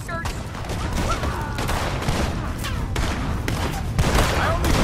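Repeated gunfire in the Red Dead Redemption 2 video game, a dense volley of shots and booms crackling throughout, with distant voices mixed under the shooting.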